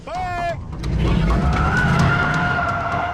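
A loud car engine roars and revs as a vehicle takes off, with a brief squealing tone at the start and excited voices mixed in.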